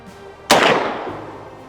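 A single loud, close blast from a Smith & Wesson .44 Magnum lever-action rifle cracks sharply and then rolls out into a decaying outdoor echo.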